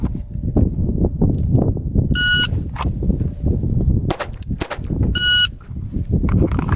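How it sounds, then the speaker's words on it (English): Gunfire at an outdoor shooting range: several sharp cracks spread across the clip over a steady rumble of background noise, with a couple of brief electronic beeps between the shots. "Now we're going to fire 3 shots."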